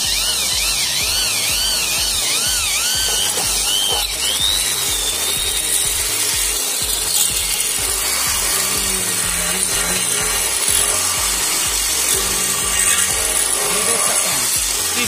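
A power tool drills holes into an aluminium door frame in a workshop, giving a continuous loud grinding whir with wavering pitch that persists throughout.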